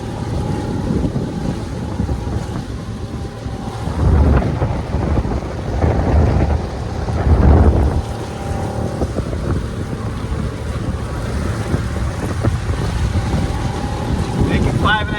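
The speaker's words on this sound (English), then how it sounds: "Wind kicked up." Steady wind roars and buffets across a Macgregor 26X sailboat on Lake Powell with the sails down, a constant broadband rush with louder gusts swelling midway, close to the microphone and without speech.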